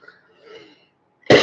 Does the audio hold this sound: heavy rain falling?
no